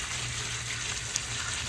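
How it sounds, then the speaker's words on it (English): A light stream of running water rinses the indoor coils of an air conditioning unit, a steady, even hiss of flowing and splashing water heard close with no talk. "you just want a light running water"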